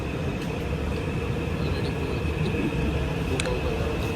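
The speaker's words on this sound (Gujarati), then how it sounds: "ગાઈસ અમે ઊભા ટ્રેનમાં જઈએ છીએ." Steady rumble of a Singapore train carrying riders toward the city, a continuous close interior drone with a faint high whine and a couple of brief clanks, no talking.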